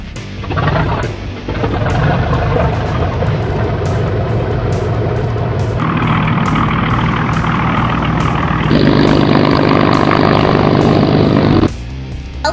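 A voice imitates an army plane engine during stop-motion play, a loud sustained rumbling drone that shifts up in pitch in steps and holds steady, with rhythmic pulsing, before cutting off near the end.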